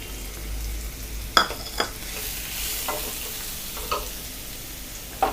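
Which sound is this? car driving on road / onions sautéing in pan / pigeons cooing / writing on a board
onions sautéing in pan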